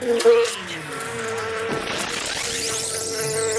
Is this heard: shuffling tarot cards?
no